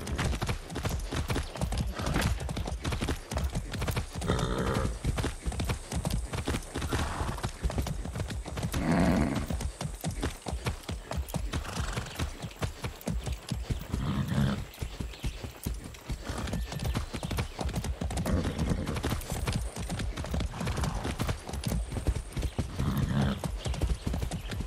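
Horse hooves clip-clop steadily and close in Far Cry 6, a dense, continuous run of rapid hoofbeats with an occasional whinny and faint voice behind it.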